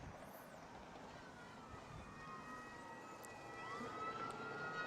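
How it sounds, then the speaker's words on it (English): Emergency sirens from a busy nearby expressway drift over a softball park during an NAIA game, a faint wailing tone riding above steady distant traffic and crowd ambience, swelling slightly toward the end. "You hear the sirens again."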